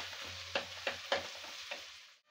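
Red and green chillies, onion and curry leaves fry lightly in a pan with a steady soft sizzle, broken by four sharp stirring scrapes about a third of a second apart before the sound cuts off.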